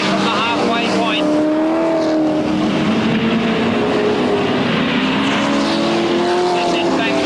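Super sedan race cars howl around the Newcastle track during a 1979 150-lap Grand Prix main event, a loud sustained engine drone with shifting pitch as cars pass, under continuous race commentary.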